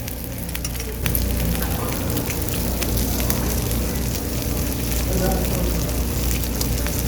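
Pork cuts, pork skin and sausages sizzle steadily on a hot grill at a Korean barbecue buffet, with a dense crackling hiss that grows louder after a moment, while a voice talks faintly underneath.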